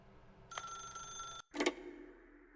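A telephone rings in the video game The Stanley Parable, two bright electronic bursts, the first sustained for about a second, then a short break and a second shorter ring that fades, fairly quiet.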